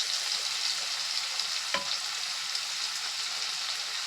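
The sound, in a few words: mustard and poppy seed paste frying in oil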